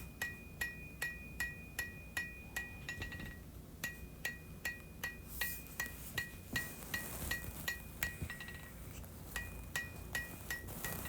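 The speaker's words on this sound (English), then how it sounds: "I'm just using the lighter hammer to take out those hammer marks and even things up" Light metallic taps from a hammer striking forged steel of a hunting knife in a quick, even rhythm, each blow ringing briefly, with a short pause partway through, smoothing hammer marks.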